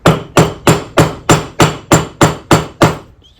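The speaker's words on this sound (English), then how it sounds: "Just hammer it in." Ten sharp, evenly spaced hammer blows ring out close and loud, each decaying quickly, as a part is driven in on an old Delta Rockwell lathe, ending with a short metallic ring and no talking.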